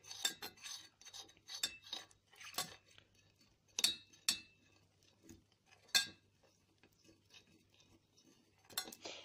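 A spoon stirs homemade vanilla extract mixture of vanilla pieces and pulp, giving faint, close clinks and scrapes against a container in irregular clusters, with quiet gaps between strokes.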